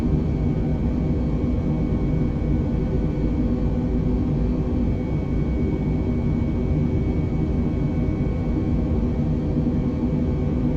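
Airliner jet engines in Microsoft Flight Simulator 2020 drone in a constant, loud, even rumble during a climb out of London Heathrow, steady throughout with no voices.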